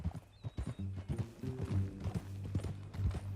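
Horse hooves clip-clop steadily in the Red Dead Redemption 2 video game, a mid-distance rhythmic clatter with a brief whinny mixed over low game ambience and music.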